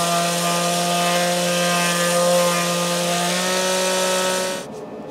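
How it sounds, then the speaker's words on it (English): Edges of a motorcycle kickstand pad are sanded with a power tool in one continuous, close, loud grinding run of about four and a half seconds that stops abruptly at the end. "I'm just going to sand over the edges just to give it a little better shape"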